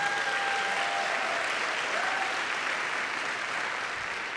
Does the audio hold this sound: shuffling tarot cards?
no